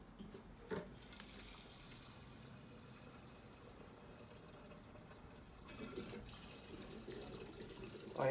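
Fuel poured into the tank of a 1977 Honda CT70 with a Lifan 125cc engine, a faint steady liquid trickle, quiet and close, swelling slightly near the end.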